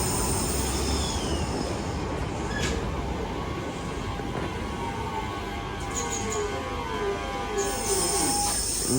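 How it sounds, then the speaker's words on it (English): A Class 323 train departs St Helens Junction for Crewe, its wheels squealing steadily with high metallic screeches over a continuous rumble of rolling stock, loud and close throughout. "Train now departing is class 323 going to Crewe."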